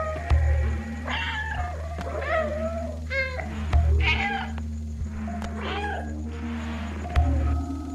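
Repeated cat meows from the video game Stray over a steady low electronic hum, several short mewing calls spread across the clip with game-like background tones.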